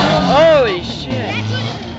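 A four-wheel drive truck works through a figure 8 course at a tough-truck challenge, its engine revving up and falling away at a distance under a steady crowd murmur and nearby talk.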